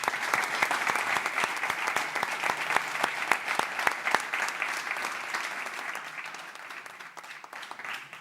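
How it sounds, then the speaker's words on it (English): A conference audience at a game industry event applauds a panel, sharp individual claps from a modest crowd heard clearly at first, then gradually thinning and fading toward the end. "So I would like for a round of applause with our panelists."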